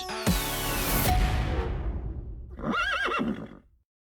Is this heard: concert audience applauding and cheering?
no